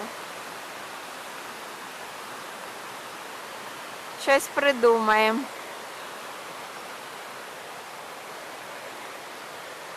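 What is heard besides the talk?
small waterfall, rushing water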